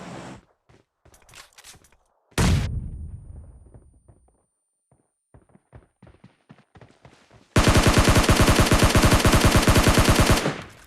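Gunfire in PUBG Mobile Lite, including M24 sniper rifle shots: scattered sharp single cracks, a loud blast with a decaying tail, more spaced shots, then a long continuous burst of rapid automatic fire lasting about three seconds.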